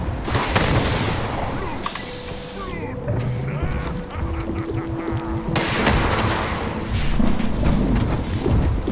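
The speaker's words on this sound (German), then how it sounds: "Na, immer schön mit dem Raketenwerfer drauf." Super mutants fire rocket launchers at a monster in the video game Fallout 76, with repeated booming blasts and explosions amid a busy, loud battle, while someone talks over it.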